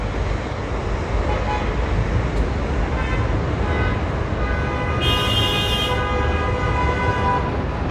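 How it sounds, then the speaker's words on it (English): Car horns honk in busy street traffic at an accident scene in New York City, a steady roar of road noise with a louder sustained horn blast near the middle. "Honking your freaking horn's not gonna make you go faster, okay?"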